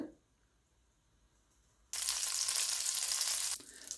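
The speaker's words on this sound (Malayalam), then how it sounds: "അതൊന്ന് ചൂടാകുമ്പോൾ നമുക്കൊരു വൺ ടേബിൾ സ്പൂൺ ബട്ടറാണ് അതിലേക്ക് ഇട്ട് കൊടുക്കേണ്ടത്" A tablespoon of butter hits a hot pan and sizzles loudly and abruptly after near silence, crackling for about two seconds before easing to a softer hiss.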